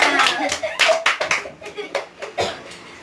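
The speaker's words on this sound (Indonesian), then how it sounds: "Beri tepuk tangan untuk semua." A class of third-grade schoolchildren claps together in a classroom, a burst of quick, uneven hand claps that thins into scattered slaps over a few seconds, with a voice faintly under it.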